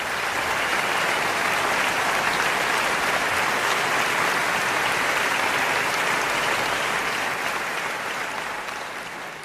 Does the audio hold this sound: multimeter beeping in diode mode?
no